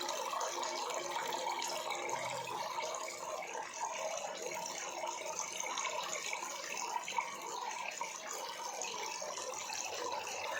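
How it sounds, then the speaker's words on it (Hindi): Water spills steadily down a small decorative Shivling fountain that has turned into a little waterfall, a continuous close splashing and gurgling rush that stays even and fairly loud throughout, with no voices. "ऊपर जो शिवलिंग का झरना है फुव्वारा है वो अब झरने के रूप ले लिया है उसने।"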